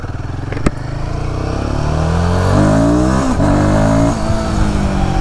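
A Royal Enfield Guerrilla Apex 450 motorcycle ridden on the road, its engine note rising steadily as it accelerates through the gears, loud and close with wind rush and no talk.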